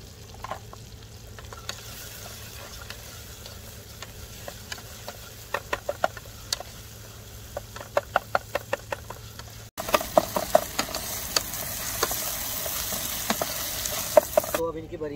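Tomatoes sprinkled with salt fry in a pan with a steady crackling sizzle and scattered ticks of stirring, and the sizzle grows louder partway through.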